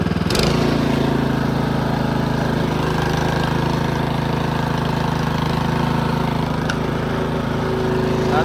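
A Toro Power Max 10/28 OHXE heavy-duty snow blower running at full throttle, a loud steady engine drone held close throughout with no letup.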